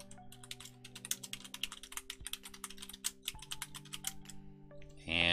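Someone types on a computer keyboard, producing a close, brisk run of clicky keystrokes in uneven bursts with short pauses, and a louder rustling noise at the very end.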